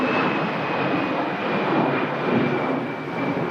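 An EasyJet jet bound for Paris Charles de Gaulle departs Manchester in strong winds, a steady, fairly loud roar with a thin high whine over broad, gusty noise.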